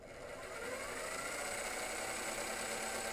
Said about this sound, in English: So when I turn the motor on, I can adjust the speed